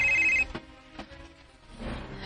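A cellphone rings with a short bright electronic ringtone at the start, which then cuts off and leaves quiet room noise and a few faint knocks.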